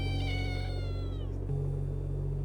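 A cat in the video game The Cardinal Park Case gives a drawn-out meow over a steady low background hum, clear and alone with no talk.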